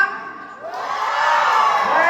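A church congregation group at an anniversary worship service bursts into cheering and whooping, voices swelling from a quieter start into a loud, sustained crowd shout.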